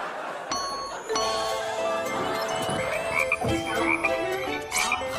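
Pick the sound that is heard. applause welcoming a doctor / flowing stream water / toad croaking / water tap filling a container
toad croaking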